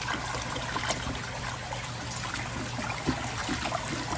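Water sloshes and trickles steadily as a hand stirs it in a bucket for a small pool pond, a continuous close swirling with no talking.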